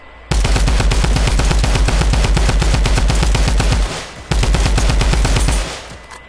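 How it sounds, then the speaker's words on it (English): Rapid automatic gunfire shooting something down in Fortnite, loud and close, a fast continuous rattle of shots in two long bursts split by a brief pause, with nothing else heard. "I'm about to start shooting this thing down"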